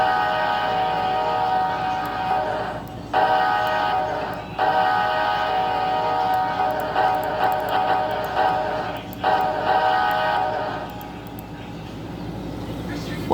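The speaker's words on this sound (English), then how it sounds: "Alright, now let's listen to the horn." An Amtrak train horn sounds in long loud blasts with short gaps between them, a chord that is rich in tones and carries over a constant rumble.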